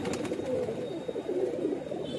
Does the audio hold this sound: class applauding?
no